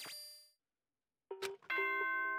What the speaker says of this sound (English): Ding dong, ding dong.